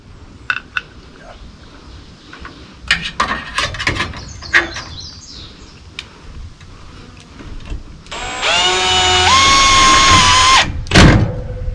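A power tool drives two screws into a mount for a battery backup solar tracker, with scattered taps and handling knocks first, then a long, loud whirring run close by, ending in a short burst.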